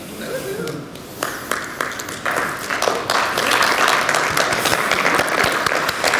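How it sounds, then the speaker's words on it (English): Conference audience at a Mobile World Congress 2014 keynote breaking into applause, sparse claps at first quickly swelling into loud sustained clapping from a large room. "you got a round of applause"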